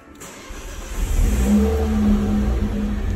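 A Mk2 Ford Focus ST engine fitted with a new Airtec downpipe cranks and catches, rising into a steady rumbling idle close by, with no talking.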